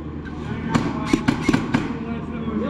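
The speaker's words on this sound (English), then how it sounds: "Who threw a grenade, man?" A grenade explodes in a tactical shooter video game, heard as several sharp, loud blasts and cracks in quick succession over a steady game background.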